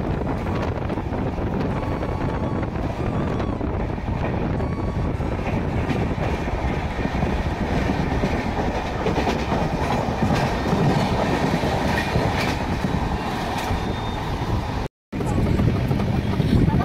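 Interior of the Howrah–Lalkuan SF Express (12353) rolling between West Bengal and Jharkhand: a steady, loud rumble with rhythmic clickety-clack of wheels over rail joints and wind buffeting the microphone, with a brief dropout near the end.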